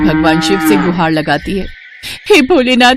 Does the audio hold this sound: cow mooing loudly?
yes